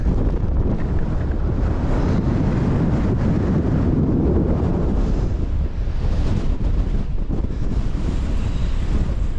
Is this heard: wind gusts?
yes